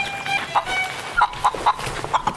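A chicken clucks in a series of short, sharp bursts, close by and fairly loud over a low background murmur.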